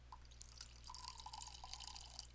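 Steeped floral tea pours from a teapot in a faint, close, steady trickle with a few soft drips, with no talking.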